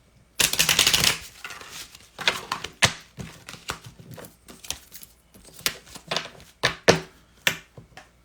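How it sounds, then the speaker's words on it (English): Oracle cards shuffled by hand, a loud riffling burst near the start followed by irregular crisp snaps and taps of cards being cut and tapped, close up with no talking. "As I shuffle here for our first oracle cards"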